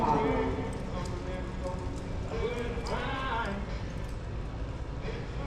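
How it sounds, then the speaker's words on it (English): Horse hooves clip-clopping across a reined cowhorse show arena, a steady run of muffled thuds under an announcer's voice over the loudspeaker and crowd murmur. "Our next horse to show, Blonde's Got a Gun."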